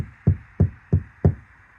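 Four evenly spaced knocks on a hollow, undeadened car rocker panel, each a dull resonant thud with a short ringing tail, close and clear.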